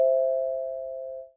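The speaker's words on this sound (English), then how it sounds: "I rang the bell on the stick house." A single bell tone from a doorbell on a house built of sticks sounds once, clear and steady, then fades out over about a second with nothing else around it.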